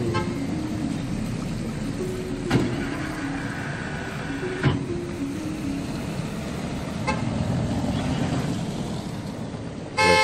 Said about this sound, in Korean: 왜 빵빵거려?